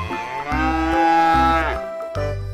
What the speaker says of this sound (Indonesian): Sapi Australia teman-teman.